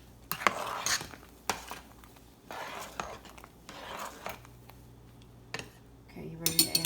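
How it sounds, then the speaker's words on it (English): A spoon stirs blackberry cobbler mixture in a pot, giving intermittent scraping clinks and knocks against the metal, fairly faint with quiet gaps between strokes. "I'm going to stir that up and then turn the heat down"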